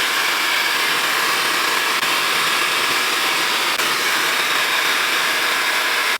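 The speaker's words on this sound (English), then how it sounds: "We gotta bring out the hair dryer." A hair dryer blowing on hair to add volume, a loud steady close-up whoosh of air that runs without a break.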